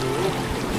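Strong river current rushing steadily, a broadband wash of flowing water close by with faint voices in the background.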